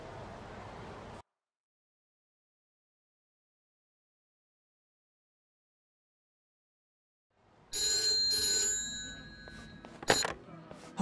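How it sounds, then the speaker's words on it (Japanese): A telephone rings in a scene from the video game Yakuza 7, a bright tonal ringing that comes in clearly after a long stretch of silence and lasts a few seconds. "連中に捕まっちまったのかと思った時、俺宛に電話がかかってきた。"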